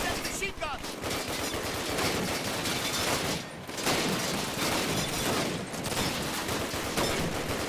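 Sustained machine gun fire rattles in Call of Duty: United Offensive, dense, loud overlapping bursts with a few brief pauses, continuing almost without letup for several seconds.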